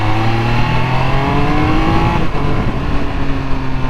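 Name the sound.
Triumph Speed Triple 1200 RS motorcycle engine while riding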